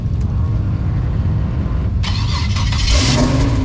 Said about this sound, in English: Third gen, fourth gen Camaro, on Camaro action.